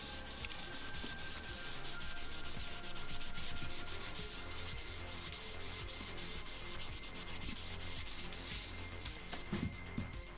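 Leather edges for a set of leather armor are buffed in a continuous, steady rubbing hiss, loud and even throughout with faint rhythmic strokes and no voices.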